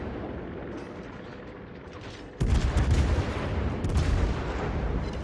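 Heavy naval gunfire from a Des Moines cruiser shooting armor-piercing shells in World of Warships, a sudden loud roaring salvo after a quieter rumble, followed by sustained booming and a second sharp volley.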